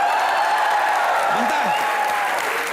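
A studio audience on the comedy show Comedy Nights With Kapil applauds in a steady, dense wash of clapping that holds at an even level for the whole stretch, with a brief voice-like murmur rising in the middle.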